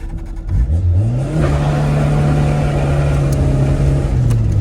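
A Doğan SLX car engine revs up loud and close, its drone rising in pitch and then holding a steady, buzzing rasp before climbing again near the end, with no voices.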